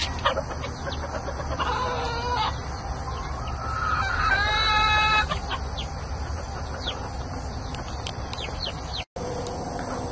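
A mixed backyard flock of chickens, including Silkies and speckled Sussex, clucks and chatters nearby, with a rooster crowing partway through over steady outdoor background noise.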